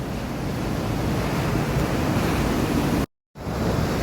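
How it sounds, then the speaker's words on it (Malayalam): Rough sea surf churns against the Kasaragod coast in Kerala during severe sea erosion, a loud, constant roaring wash of breaking waves with wind buffeting the microphone, briefly cutting out near the end. "വളരെ അടുത്താണ് കടൽ"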